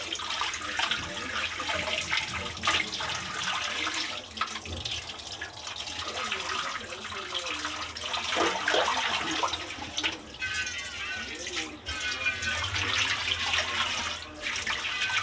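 Raw chicken washed under running tap water in a kitchen sink, a continuous splashing gush with shifting gurgles and sloshes as the pieces are stirred by hand, close but soft.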